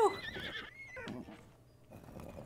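A horse in Zelda: Breath of the Wild gives a loud, close whinny that falls in pitch, followed by brief hoof clip-clop and softer game sounds.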